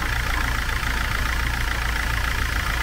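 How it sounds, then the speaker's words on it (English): Mercedes Sprinter camper van engine running at idle, heard up close from underneath, with a steady loud drone and a continuous whine from the alternator, no talking. "see if I can hear this alternator"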